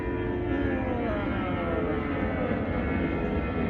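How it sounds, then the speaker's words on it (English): An airplane passes overhead, a loud, steady broadband engine roar that fills the short stretch without pause and has no talk over it. "got an airplane going by"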